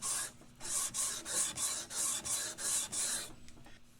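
Fretboard inlays on a vintage Hohner Shark Fin guitar are sanded flush, about ten rhythmic, even back-and-forth rasping strokes heard up close, slowing and stopping near the end.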